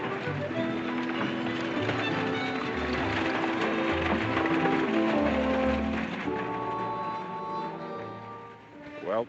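Horses ride off in a Western film scene, their hoofbeats thudding steadily under a loud orchestral score, with a brief rising flourish at the very end.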